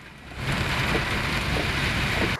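Heavy rain pours steadily over Jayanagar, Bangalore, a dense loud hiss of downpour that swells after a quieter start and holds constant, with no voices.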